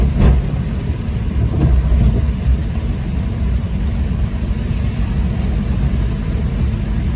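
Continuous rain near a bridge in Mirpur, Kashmir, a loud, unbroken low roar and hiss that stays constant throughout, with a few faint rumbles under it.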